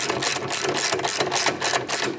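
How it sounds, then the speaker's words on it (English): A ratchet wrench tightening a shoulder bolt on a cross trainer's wheel pivot axle assembly, giving a steady, dense mechanical clicking that runs without pause throughout, close and fairly loud. "I now need to tighten, so I've got to change the direction of my ratchet to righty-tighty."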